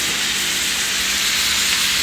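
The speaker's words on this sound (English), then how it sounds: "Applewood smoked peppered bacon. I'm cooking that up in my giant frying pan." Applewood smoked peppered bacon sizzles and crackles in a giant frying pan, a loud, steady hiss filling the whole stretch with no talking.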